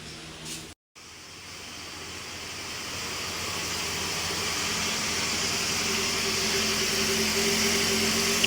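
A 2007-2011 Toyota Camry 2.4-litre four-cylinder cranks briefly and catches on its first start after a seized-engine replacement, then settles into a steady, gradually rising idle hum with a low engine drone.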